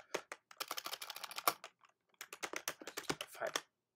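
Rapid keystrokes on a computer keyboard while a file is named in a code editor, in two quick bursts of close, crisp clicks with a short pause between, no talking.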